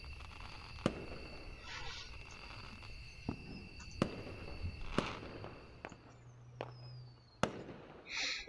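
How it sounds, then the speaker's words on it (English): Fireworks in the Angels with Scaly Wings video game: a string of sharp, scattered bangs and crackles at irregular intervals, some with thin rising whistles, over a soft ambient bed. "And there it is, the fireworks."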